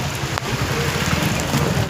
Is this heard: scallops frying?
no